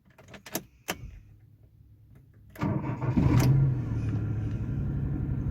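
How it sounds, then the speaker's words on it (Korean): A small three-cylinder Daewoo Matiz engine cranks and starts after a few clicks and a door sound, then settles into a steady, buzzy idle close to the microphone. "시동 킬 때 어떤 소리가 나는지만 한번 들어보세요."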